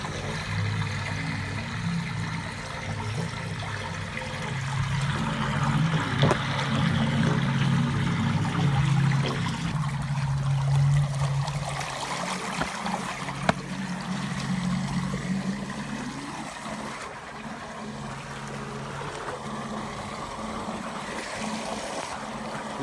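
Water gushing steadily from a solar-powered village bore pump, a continuous rushing pour close by that keeps going without a break, with no voices over it.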